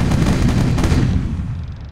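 Ship cannons fire in a naval battle in Age of Pirates Caribbean Tales, a loud rolling burst of booming blasts that fades out, with no talk over it.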